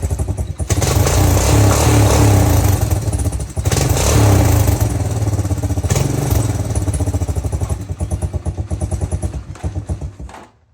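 A motorcycle engine cranked and brought to life, close and loud with a lumpy, thumping idle and brief revs that settle before the engine shuts off at the end.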